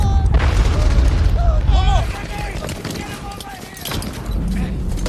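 A Bangalore torpedo blasts open a road barrier in a war film battle scene. A heavy, low boom rumbles through the first couple of seconds, followed by quieter battle noise, with a narrator speaking over it.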